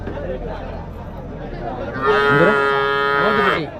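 A single long, loud moo from a native breed cow with strong harmonic tone rises over a busy background of murmuring voices and crowd chatter at the Uthangarai cattle market.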